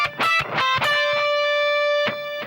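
A distorted electric guitar plays a short G Dorian sequenced phrase, a few quick picked notes followed by a long singing sustained tone and a final accented note, loud and up close.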